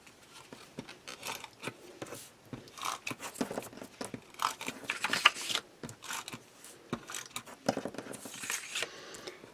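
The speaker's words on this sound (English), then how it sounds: "So in the meantime, I'm just going to use a tape runner." A tape runner lays adhesive onto paper for a Christmas mini album, giving close, quiet, irregular clicking and crinkling strokes that continue throughout.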